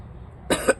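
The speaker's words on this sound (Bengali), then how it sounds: "কাশি হচ্ছে" A short burst of coughing, two or three quick rough coughs close together, heard up close with no talking.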